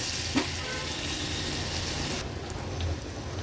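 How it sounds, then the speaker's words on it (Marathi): Finely chopped onion fries in a pressure cooker, a steady close dense sizzle that runs throughout with slight shifts as it is stirred. "दोनच चमचे मी कांदा बारीक चिरून घेतला आहे तो ॲड करते जास्त कांदा पण नाही वापरायचा कांदा थोडासा शिजवून घेऊया"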